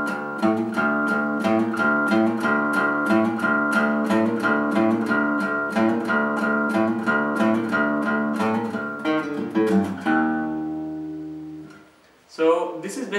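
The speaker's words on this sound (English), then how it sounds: "So the main riff kind of sounds like this." Guitar playing the main riff of a song over an open sixth-string D pedal note, a fast rhythmic pattern of repeated picked notes that rings out, fades briefly, then resumes.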